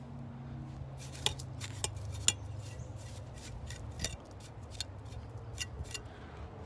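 A hand tool gently scraping away dirt to expose a leaking water pipe, giving soft, irregular close clicks and scrapes with a few sharper ticks over a low background hum.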